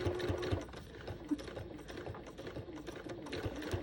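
Sewing machine stitching a quilt with a stitch-in-the-ditch foot and a new needle, running as a steady close whirring hum with a faint rhythmic needle patter and no talking.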